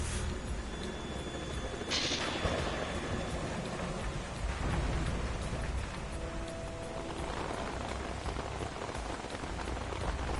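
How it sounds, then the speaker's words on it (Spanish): Steady rain in the video game Metal Gear Solid 2: Sons of Liberty pours down on a surface, a dense hiss with scattered drops pattering throughout and no voices. "El ruido de la lluvia, todo eso también"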